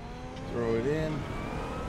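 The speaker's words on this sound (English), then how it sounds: "Enjoying the sound of this car." A car engine in the sim racing game RaceRoom hums steadily, its tone rising and falling through a gear change as the pitch sweeps up and back down, while a voice talks over it.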